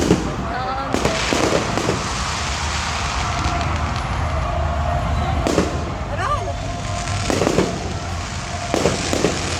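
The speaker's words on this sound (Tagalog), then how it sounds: "ayaw ko yung tunog ng fireworks." Fireworks explode at irregular intervals, loud sharp cracks with crackling tails, over constant background chatter and noise.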